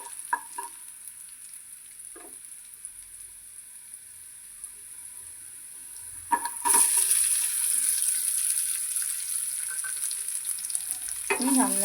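Sliced onion and green chilli go into hot oil in a pan for a brinjal buttermilk curry, a few quiet clinks and stirs, then a loud sudden sizzle that holds steady with occasional scraping, no talk.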